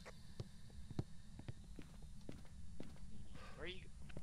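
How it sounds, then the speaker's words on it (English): Scattered ghostly footsteps thump faintly in the horror game Phasmophobia, irregular and distant beneath a constant hum, with people talking over them. "You hear all the footsteps?"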